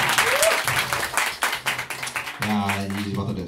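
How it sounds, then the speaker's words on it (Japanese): Audience applause after a beatbox battle, a dense burst of clapping from a small indoor crowd that carries on throughout, with a voice speaking over it partway through. "敵にも大きな拍手"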